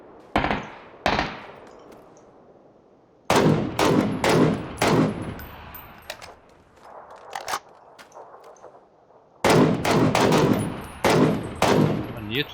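Bursts of rapid automatic gunfire ring out in a PUBG solo match on the Miramar desert map, several loud close volleys separated by short pauses, with scattered single shots between them.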